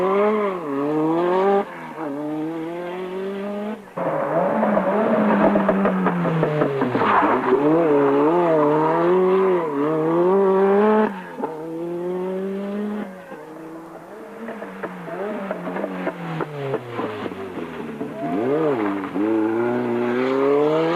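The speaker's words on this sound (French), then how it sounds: "Les Renault 5 Turbo font admirer leur inégalable maniabilité et se jouent des épingles" Renault 5 Turbo rally cars race through tight hairpins on mountain roads, engines revving up and down in repeated surges with tire squeal, loud and close, while someone talks over them at times.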